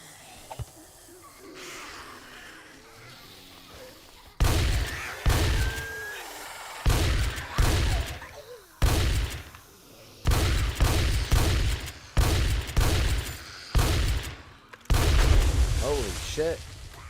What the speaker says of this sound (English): Somebody shot something at me